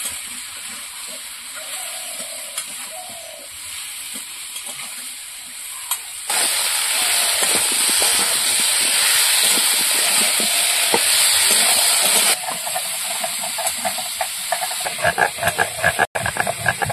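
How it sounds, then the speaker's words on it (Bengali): Taro (arum root) sizzles and fries steadily in a pan, with scraping stir strokes and a loud, bright burst of frying in the middle section; no one talks. "কচুটা এবার ভালো করে কষিয়ে নেব।"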